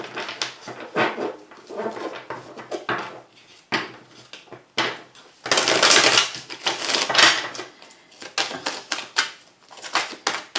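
Tarot cards being shuffled and dealt out for a nine-card spread, a busy run of crisp papery flicks and slaps with a louder riffling burst midway, close and continuous.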